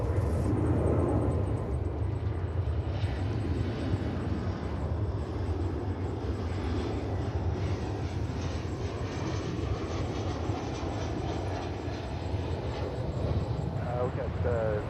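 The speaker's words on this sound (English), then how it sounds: "That's American Flight 2747. It's going off to San Diego." An American Airlines passenger jet departs Dallas/Fort Worth Airport, giving off a deep, steady engine rumble from some distance that holds level for the whole stretch.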